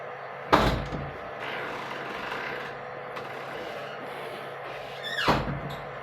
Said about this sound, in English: Ali, come and close this door for me.